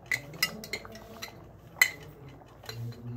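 Metal spoon clinks sharply against a pan a few separate times while desi ghee is spooned in, with soft cooking noise underneath.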